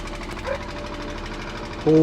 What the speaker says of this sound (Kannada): ಬೋಟ್ ಸ್ಟಾರ್ಟ್ ಆಯಿತು ಗಾಯ್ಸ್, ಸೌಂಡ್ ನೋಡಿ ಯಾವ ಥರ ಉಂಟು ಅಂತ